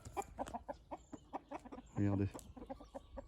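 Hens on a farm clucking in quick, close bursts, with one louder drawn-out squawk in the middle; someone speaks briefly over them.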